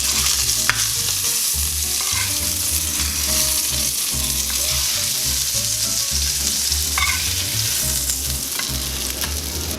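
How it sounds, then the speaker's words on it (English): Freshly caught Gulf of Mexico red snapper fries in a very hot pan, giving a loud, steady, close sizzle with occasional pops and crackles throughout. "the fish is ready to fry. So I'm gonna put it in the pan."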